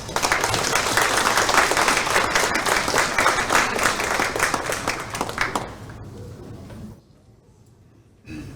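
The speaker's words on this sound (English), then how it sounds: "Golf clap." Polite golf-clap applause from a seated audience at a disability-community transition event, dense steady clapping for about six seconds that fades out, then near-quiet before a faint return of room sound.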